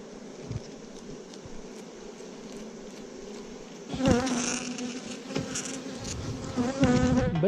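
Honeybees swarm-buzz steadily around an open production hive during requeening, a dense, close drone throughout that swells louder and more agitated halfway through, with brief handling knocks.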